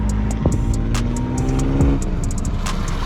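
A third-generation Chevrolet Camaro on an autocross run, its engine droning loud and close with shifting revs and some tire noise as it works through the course.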